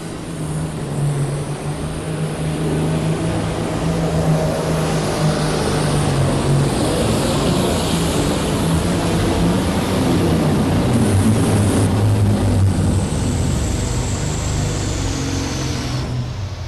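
A John Deere tractor engine with a stuck throttle roars at high revs at a 1993 farm machinery show, a loud continuous drone that holds steady throughout with shifting pitch.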